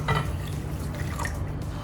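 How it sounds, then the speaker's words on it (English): Distilled water is poured into flaxseed for a homemade leave-in conditioner, a short close liquid splash and trickle heard on its own. "So next I'm going to add in a cup of distilled water."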